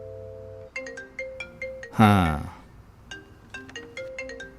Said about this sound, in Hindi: पिताजी फोन कर रहे हैं।